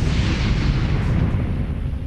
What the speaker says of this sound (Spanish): La explosión había reventado el módulo de servicio